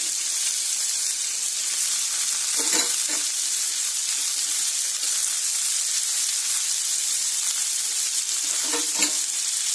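Carrots and potatoes frying in a pan for a mixed vegetable fry, a steady close hiss and sizzle throughout, with a couple of brief stirring scrapes.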